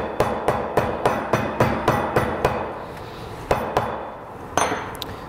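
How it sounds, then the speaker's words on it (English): Black peppercorns being coarsely crushed by hand with the flat side of a pan in a kitchen: about a dozen sharp, fairly close knocks in a steady rhythm, a short pause, then a few final heavier thumps, with no talk. "So the flat side, and just coarsely crush your black peppercorns."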